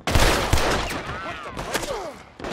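Gunfire in Red Dead Redemption 2, during an outlaw bounty shootout with several sharp close shots early, then more scattered cracks and ricochet-like whines, loud, with a few distant voices.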